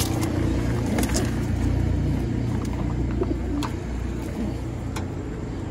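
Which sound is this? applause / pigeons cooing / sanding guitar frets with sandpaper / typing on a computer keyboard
pigeons cooing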